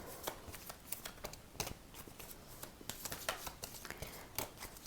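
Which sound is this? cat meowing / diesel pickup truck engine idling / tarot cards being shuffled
tarot cards being shuffled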